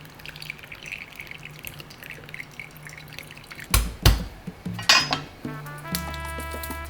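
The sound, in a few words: homemade red enchilada sauce being strained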